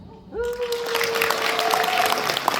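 Dense applause from a crowd at an awards ceremony swells and continues, with a sustained tone and a voice over the clapping at first.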